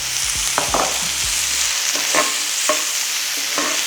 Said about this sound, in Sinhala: මේක මේ විදිහට යාන්තම් සෝට් කරගන්නවා